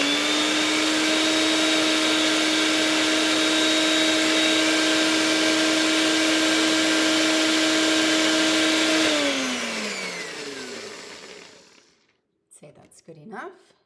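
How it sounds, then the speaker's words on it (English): A NutriBullet blender whizzing celery for a salad gives a loud, steady motor whine for about nine seconds, then winds down and fades, followed by a few brief knocks. "I've got my NutriBullet over here. Might get a little noisy."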